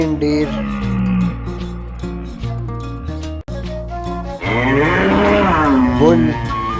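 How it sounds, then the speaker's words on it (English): A bull moos in deep, loud, sustained calls, close and alone, with a longer, rising and falling bellow near the end. "Bull."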